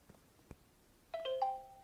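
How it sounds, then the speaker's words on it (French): A smartphone chimes with a notification from a wireless connected video doorbell, a short bright multi-tone melody after a couple of faint taps, fairly quiet and heard alone. "j'attends plus que la notification sur le téléphone"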